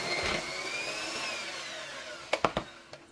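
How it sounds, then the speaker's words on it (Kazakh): An electric hand mixer whirs steadily as it blends boiled potatoes into a smooth puree, a continuous near drone with a few sharp clacks of the beaters against the bowl near the end. "Мен бұл картошкамды миксерге салып араластырамын"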